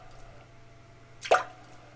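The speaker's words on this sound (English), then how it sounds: "the drops just continued to trickle out" A single water drop plops once in a visual novel video game, a short wet drip standing out against a quiet, low background hum.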